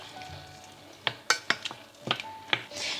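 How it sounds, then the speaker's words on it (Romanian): A spoon scrapes and clinks against a pot while blackberries are stirred, a handful of sharp metallic taps and scrapes over a faint background hiss, close by with no talking. "Amestecăm cu lingura până încep murele să-și lase sucul și suntem cu ochii aici pe oală."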